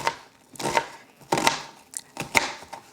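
A knife chops onions on a cutting board for chili, giving four or five separate crisp thuds at an uneven, unhurried pace, close and clear, with no talking.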